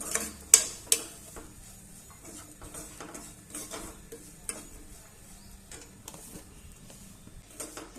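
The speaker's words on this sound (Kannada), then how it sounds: "ಇವಾಗ ಇದನ್ನು ಚೆನ್ನಾಗಿ ರೋಸ್ಟ್ ಮಾಡ್ಕೋಬೇಕು. ರವೆ ಎಲ್ಲ ಹುರ್ಕೋತಾ ಇದೆ." Semolina (rava) being dry-roasted and stirred in a pan for upma, heard as a spoon scraping and tapping against metal with a few sharp clinks early on, over a faint background hiss.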